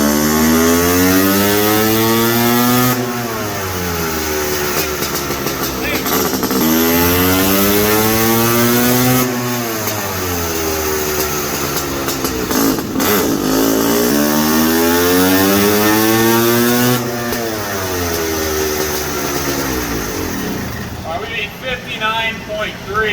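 A motorcycle engine revving on a dyno climbs repeatedly through its rev range in long, loud sweeps, each rising then dropping off before the next pull, filling the space close up.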